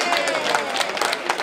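An audience at a community launching and fundraising event claps along in quick, rhythmic bursts, with crowd voices mixed in throughout.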